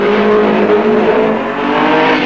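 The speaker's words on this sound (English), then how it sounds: "Monte Carlo rally winner Timo Makinen has this Healey 3000." Austin-Healey 3000 race car engine at the 1965 Targa Florio road race, a loud, steady roar held close for the whole stretch with a slight dip midway.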